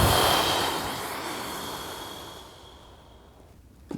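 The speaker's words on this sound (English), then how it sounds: "Exhale." A long, breathy exhale during a bicep exercise, starting loud and close then tapering off gradually over several seconds, with a brief sharp intake of breath at the very end.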